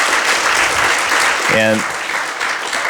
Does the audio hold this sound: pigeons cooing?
no